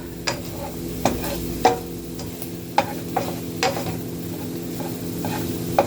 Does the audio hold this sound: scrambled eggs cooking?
yes